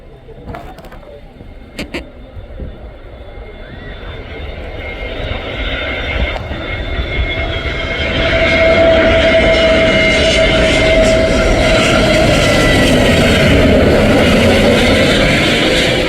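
An Air India Express airplane lands nearby, its engine roar building gradually into a loud, broad, sustained rumble over open-air background noise.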